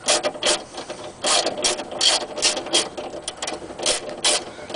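Rapid clicking of a ratchet tightening bolts on a power window regulator inside the door of a 2001 Honda Accord EX, quick rhythmic strokes close up and fairly loud, no talking.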